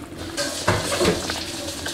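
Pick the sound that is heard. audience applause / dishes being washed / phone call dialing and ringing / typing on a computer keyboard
dishes being washed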